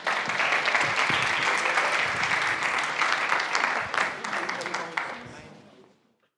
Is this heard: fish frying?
no